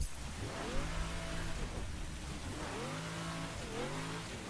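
A drag car's engine in The Crew racing game, during an off-road event, revs in three rising sweeps separated by brief drops, steady and moderately loud with no talking.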